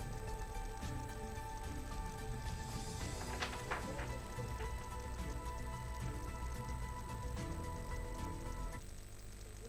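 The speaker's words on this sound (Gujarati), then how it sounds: "આજે શહેરના વિવિધ વિસ્તારમાં મુસળધાર વરસાદ" Heavy downpour in Nadiad, Kheda pours as a continuous, dense hiss of rain striking surfaces, faint but steady, with a few sharper drip or splash taps scattered through it.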